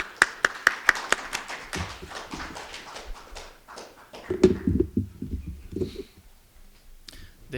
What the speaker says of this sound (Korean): 다 함께 박수를 부탁드리겠습니다